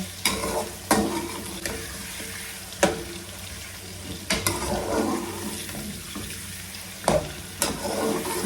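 Chicken pieces frying in hot oil over high heat for chicken karahi, with a steady sizzle and sharp scraping clatters as they are stirred. No one speaks.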